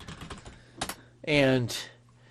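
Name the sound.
typing on a computer keyboard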